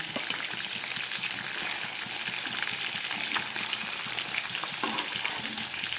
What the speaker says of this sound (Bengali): মাথাটা একটু লাল করেই ভাজলাম